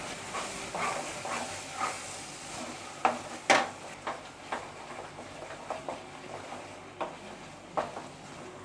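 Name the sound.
sautéing chana masala paste in oil until oil separates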